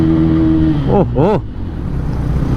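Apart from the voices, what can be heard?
Bajaj Pulsar P150 motorcycle exhaust note, bass-heavy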